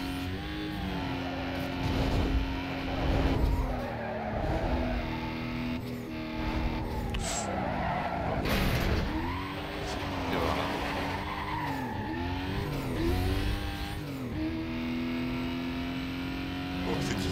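Cars race and skid in the video game Need for Speed Most Wanted, engines revving continuously with repeated tire squeals through curves, game music or effects underneath, no clear talk.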